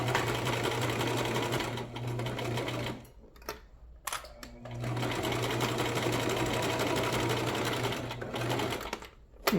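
A sewing machine stitches scrap fabric in a steady, close whir that pauses briefly midway while the presser foot is lifted to pivot, then resumes and runs on before stopping again near the end.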